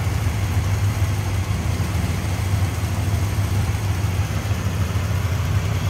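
A 1981 Chevrolet Camaro Z28 with its 5.7 liter 350 V8 idles steadily, giving a smooth, even low rumble that stays constant and close with no talk over it.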